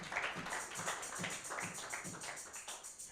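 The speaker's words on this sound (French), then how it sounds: "put your hands together for this." A church congregation claps in a steady rhythmic beat during a sermon, evenly spaced hand claps repeating about twice per second, faint and somewhat distant with a murmur underneath.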